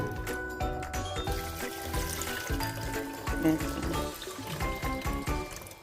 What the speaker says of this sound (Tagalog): At ito ay aking lalagyan ng tubig.